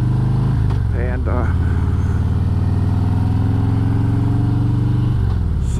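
Motorcycle engine running steadily while riding home on the road, a loud continuous drone with a gear change near the start, heard alone without talk.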